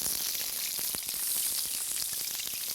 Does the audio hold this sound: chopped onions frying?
yes